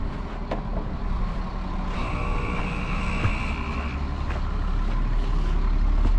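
A cold Caterpillar 3208 diesel engine cranks fast on ether, a steady rapid starter churn with a low rumbling drone that holds for several seconds, close and fairly loud.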